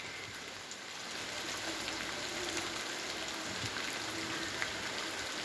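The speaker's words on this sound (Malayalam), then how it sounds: "പുറത്ത് നല്ല മഴയാണ് കേട്ടോ" Steady rain patters and hisses outside, a soft continuous wash of drops heard from indoors, fairly faint with no talking.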